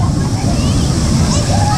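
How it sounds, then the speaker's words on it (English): Loud, steady rush of a big waterfall at a water park, with continuous splashing and churning water filling the scene and a voice talking over it. "That's a big waterfall."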